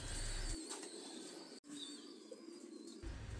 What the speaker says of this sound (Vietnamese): Mình cũng quay lại cái ở cái trại bồ câu của mình ở trên Đắk Lắk